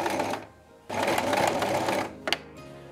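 Sewing machine stitching a folded fabric seam on a pencil skirt, running in two loud bursts with a short pause between, ending with a brief quick stitch.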